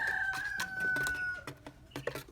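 Agitated Coturnix quail kept indoors in a garage call out in a series of sharp, close chirps and squawks, with a sustained whistling call at the start followed by scattered clucks.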